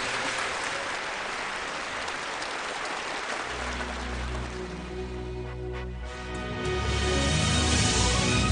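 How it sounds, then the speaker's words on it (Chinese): Audience at a televised singing contest applauding, a loud continuous wash of clapping that gives way partway through to a sustained musical tone underneath, then swells again at the end. "掌声送给涛哥"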